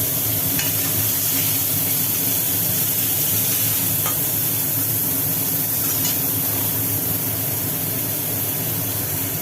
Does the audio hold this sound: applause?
no